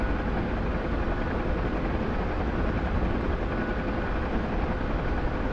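Steady, heavy rumbling drone of a helicopter in flight, loud and unbroken from start to end with no voices.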